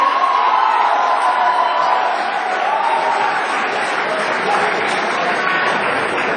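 Kavi sammelan audience applauding a poet with loud, sustained clapping, scattered cheers and whoops mixed into the steady roar.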